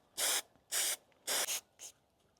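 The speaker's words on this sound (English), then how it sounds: "And I'm gonna first use brake cleaner to clean this off." An aerosol can of brake cleaner sprays in four short hissing bursts, the last one shorter and softer, close by in a van-build workspace.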